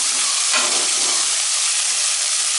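Vegetables and tomatoes for veg pulao sauté in a pan with a loud, continuous close sizzle and hiss, and a brief stir scrape early on.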